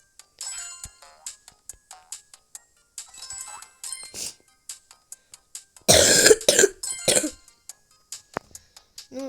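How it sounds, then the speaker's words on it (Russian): A sick person coughs and clears their throat in a few scattered bursts, with one louder, harsher coughing fit in the middle and quieter rustles between. "потому что я заболел, у меня кашель."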